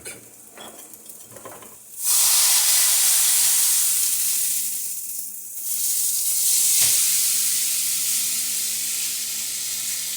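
Steak seared fat side down in a hot pan, a loud, steady sizzle and hiss that starts abruptly and continues, dipping briefly midway before swelling again.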